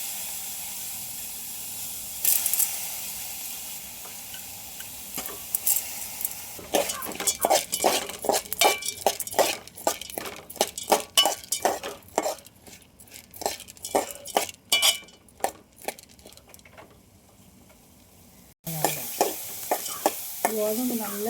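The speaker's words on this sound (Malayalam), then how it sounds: "നമുക്കിനി ഗോതമ്പ് വറുത്തെടുക്കാം." Whole wheat grains dry-roast in a pan while a spoon stirs them, giving repeated loud scraping strokes over a soft sizzle, with a few brief pauses.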